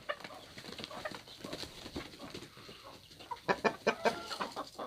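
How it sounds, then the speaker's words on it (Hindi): A bantam hen clucks in a series of short, uneven calls, growing louder and sharper toward the end, close to the microphone with no talking. "ये बेंटम आप देख सकते हैं, ये बेंटम की मुर्गी है।"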